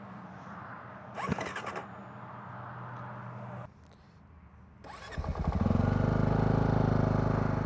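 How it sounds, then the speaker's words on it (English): A motorcycle with a warmed lithium battery in cold weather cranks briefly, pauses, cranks again, then fires up and settles into a loud, steady idle close by, with no talking. "So once the battery was warmed up on this bike, it fired right up."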